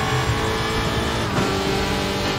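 WTCR touring race car at full throttle at Portimao, a loud continuous engine roar heard from onboard, steady and close with a brief shift in tone midway, no talking.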